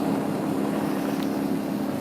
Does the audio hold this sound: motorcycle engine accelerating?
yes